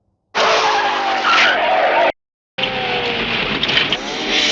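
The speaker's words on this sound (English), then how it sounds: "I gotta love the fishtailing in those big rear-wheel drive vehicles" A big rear-wheel-drive car fishtailing in a film chase, tires skidding and squealing in two loud, close bursts separated by a brief silence.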